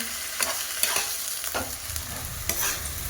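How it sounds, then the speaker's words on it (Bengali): Garlic fries in oil while a utensil stirs it, giving a steady sizzle broken by about four scraping strokes against the pan, close, with no voices. "রসুনটাকে ভালো করে নেড়ে নেবো যাতে না কাঁচা গন্ধটা রসুনের থাকে।"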